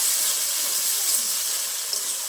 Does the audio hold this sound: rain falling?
no